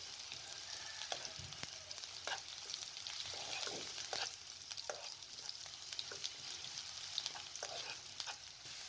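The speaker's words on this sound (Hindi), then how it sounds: "4 से 5 खाने के चम्मच कुकिंग ऑयल शामिल करके इसके अंदर प्याज को डाल दें, साथ में लहसुन को भी शामिल कर दें।" Chopped onion and garlic fry in four to five spoonfuls of cooking oil, with a steady soft sizzle punctuated by scattered pops and spoon scrapes, faint and close.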